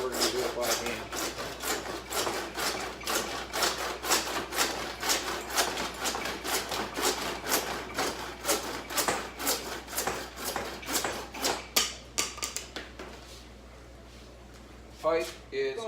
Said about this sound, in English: now we're just going to cut this pipe